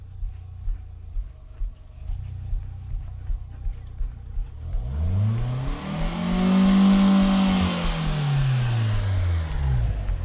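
A car engine struggling up a muddy slope, first idling with rhythmic faint chugging, then revving loudly in a rising and falling strain as the wheels spin, with insects chirping faintly in the background.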